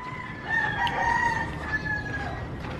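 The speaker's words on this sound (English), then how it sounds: "You think inside there's a rooster farm? Yeah, you can hear them." Several roosters crow repeatedly from behind a wall at a rooster farm in a Philippine squatters' area, their calls overlapping at a moderate distance over steady outdoor background noise.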